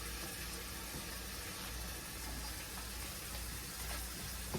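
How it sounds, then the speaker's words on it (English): Cold tap water running into a bowl in a home kitchen, a faint, steady hissing stream with no talk over it. "I'm just filling the bowl with ice water."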